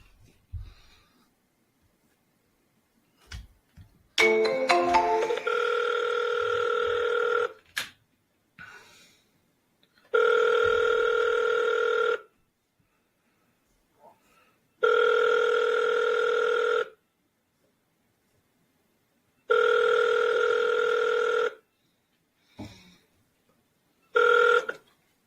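A telephone line ringing out on an outgoing call, four evenly spaced two-second ring bursts with silent gaps between them, loud and clear. A short run of dial tones comes first, with a few faint clicks.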